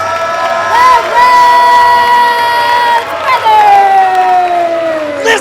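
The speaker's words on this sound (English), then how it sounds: "This crowd is going crazy." A large wrestling arena crowd roars and cheers loudly and continuously as new tag team champions are crowned, with shrill whoops and whistles rising above the sustained din.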